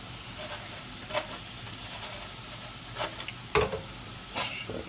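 A spoon stirs a spiced potato mixture for Nusret-style fried potatoes in a pan, giving a faint steady sizzle with a few soft scrapes and clinks scattered through it.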